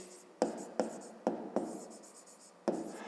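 A pen writes by hand on paper while working a fifth-grade maths exercise, five or six sharp close strokes that each start with a tap and scratch briefly before trailing off, quiet and without talk.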